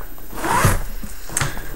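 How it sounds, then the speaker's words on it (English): A handbag zipper is pulled open in one quick close-up rasp, followed by a shorter second tug. "And then in the next zipper"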